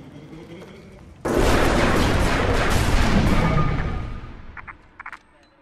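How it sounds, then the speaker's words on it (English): Burst of gunfire in a scene from the 2006 action crime comedy film Smokin' Aces, a sudden loud volley starting abruptly and rolling on for about three seconds before fading, followed by a few faint sharp clicks. "that definitely sounds like gunshots"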